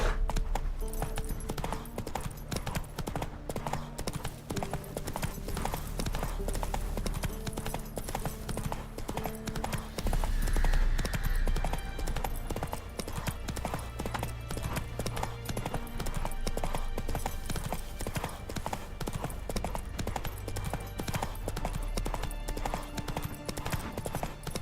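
Roach the horse gallops in The Witcher 3, with rapid rhythmic hoofbeats pounding steadily throughout, close and prominent over game ambience and occasional faint effects.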